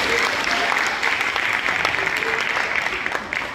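A church congregation at a youth week service applauding: dense, continuous clapping from a crowd, loud and sustained across the whole stretch, with a voice faintly heard under it.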